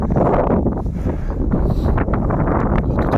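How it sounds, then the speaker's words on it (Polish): Strong wind buffets the microphone at a former military airfield beside old army garages, a loud continuous low roar and rumble filling the whole stretch with no speech. "Strasznie wieje, na pewno będzie huczeć."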